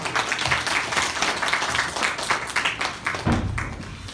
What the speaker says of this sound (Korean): 자, 박수로 환영해 주시기 바랍니다.